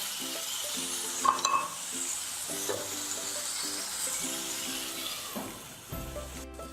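Vegetables for an Indian-style masala pasta fry and are stirred in a pan, giving a steady close sizzle with scraping strokes and a few metallic clinks, without talk.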